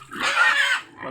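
A single short pig oink rises and fades within about a second, close and fairly loud, on a pig farm in Negros Occidental, Philippines.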